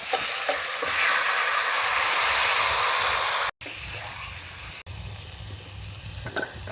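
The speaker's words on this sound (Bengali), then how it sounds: "ম্যারিনেট করা মাংসটা আমি এবার এর মধ্যে ঢেলে দেব" Marinated chicken with chopped onion and biryani spice poured into a hot pan, giving a loud, steady sizzle and hiss that breaks off briefly twice, then carries on as quieter frying with stirring.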